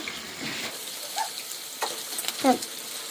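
Chicken pieces hit hot oil with spices already cooked down until the oil separates, giving a steady soft sizzle with occasional stirring scrapes and clinks, fairly quiet and close.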